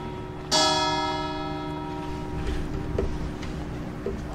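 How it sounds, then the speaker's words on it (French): Church bells of Saint-Léger church ring out, a strong clear strike followed by a long resonant decay with fainter strokes after, heard from outdoors at moderate distance. "Vous entendez les cloches qui sonnent? Ce sont celles de l'église Saint-Léger."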